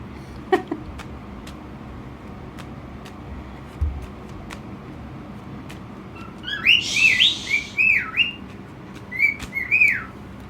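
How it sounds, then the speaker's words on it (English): A pet bird chirps and whistles indoors in a few bright, bursting phrases that start partway through and come back near the end, over a quiet room with a couple of faint knocks. "That's my little bird getting jealous of me spending so much time with the cards."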